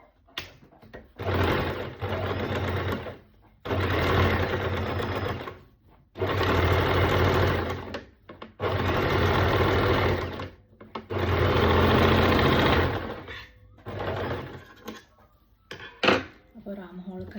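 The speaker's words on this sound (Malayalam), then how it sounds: "നമ്മൾ ആം ഹോളിൻ്റെ അവിടെ സ്റ്റിച്ച് ചെയ്യാൻ പോകുന്നത്." A sewing machine stitches a sleeve into the armhole of a frock for a six-month-old baby, running in five or six steady bursts of several seconds each with short pauses between them, close and fairly loud.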